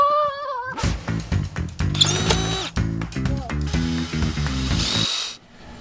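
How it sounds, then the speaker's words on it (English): Someone working a screw loose with a power tool outdoors while building a garden sink and shower: repeated short bursts of whirring and ratcheting, close and loud, with brief pauses between them. "Just getting a screw out"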